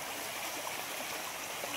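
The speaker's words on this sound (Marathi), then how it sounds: "हा बघा आतमधनं झरा आहे" Spring water running into a village water tank in the Konkan, a faint, steady bright rush and trickle with no break.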